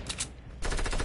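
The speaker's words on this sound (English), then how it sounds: "I think it's some kind of a gun." Rapid automatic gunfire from a gun in a video game, a short rattling burst that swells louder and denser in the second half of a brief moment.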